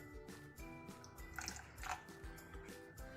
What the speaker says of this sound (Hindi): मैं इसमें बहुत थोड़ा सा पानी डालूँगी,